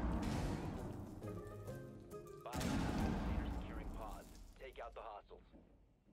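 Rainbow Six Siege gunfire cracks in dense, loud bursts at the start and again midway, mixed with excited voices talking over the game.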